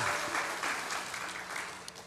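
A room of people clapping together at a church adult Bible school session, even and sustained, at moderate distance.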